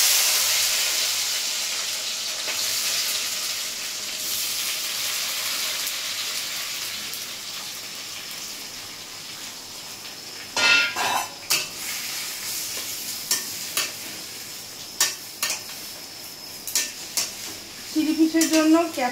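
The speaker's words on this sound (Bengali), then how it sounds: "এরপরে এখানে লঙ্কা, ক্যাপসিকাম আর পেঁয়াজ আছে, সেটা তেলে দিয়ে দেবো, ওই মাছ ভাজা তেলেই দিয়ে দেবো" Chillies, capsicum and onion go into oil left from frying fish, a close, steady hiss of frying with a few sharp bursts and scraping stirs toward the end.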